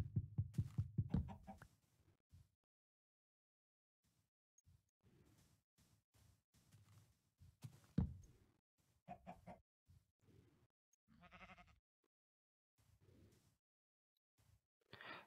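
A chicken in the Minecraft video game gives a rapid burst of clucks at the start, then scattered short clucks and game noises follow at low level with long quiet gaps.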